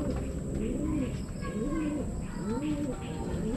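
Racing pigeons in a loft cooing, several soft repeated rolling coos close by over a steady background hum, with occasional faint chirps and a voice speaking.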